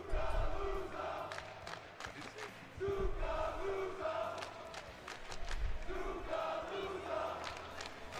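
Crowd at a Battle of BC Ultimate tournament shouts out a player in loud, chant-like bursts that rise and fall, with voices mixed in throughout.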